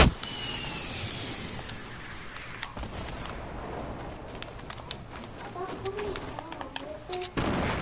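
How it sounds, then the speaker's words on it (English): Rocket launcher fire in the Fortnite video game, a sharp blast near the start followed by several more muffled bangs and crackles over steady game ambience, with a player talking at times. "Last RPG rocket"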